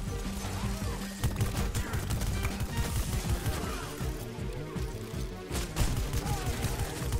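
Automatic-weapon gunfire from the Plants vs. Zombies Garden Warfare 2 video game, a dense steady stream of rapid shots with blasts and crashes layered in, continuous and loud throughout.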